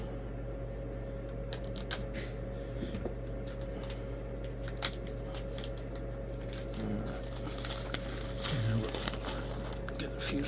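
A package of standard computer side-panel screws for a mining rig build is torn open, with crinkly plastic rustling and small clicks close by over a steady electrical hum.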